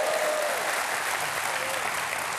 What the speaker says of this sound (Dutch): Toch nog een applaus voor de rode tribune.